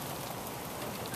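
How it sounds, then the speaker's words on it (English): Steady, dense rain falls outdoors after a violent storm with hail, a continuous close hiss of drops spattering on surfaces that runs unbroken and alone, with no voices. "It's still raining out here."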